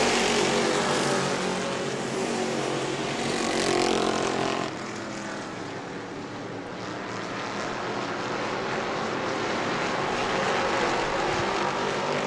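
Super Stock race cars racing at New Smyrna, a loud, continuous engine roar from several cars that dips briefly midway as they pass, then swells again, with no voices.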